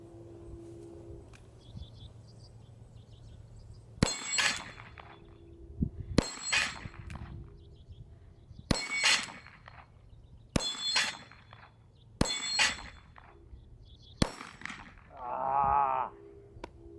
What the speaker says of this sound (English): let's go over there and shoot some steel targets and have some fun